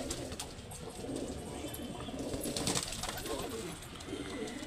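Pigeons kept by a hobbyist coo softly amid a busy, noisy background, with low murmuring calls running steadily throughout.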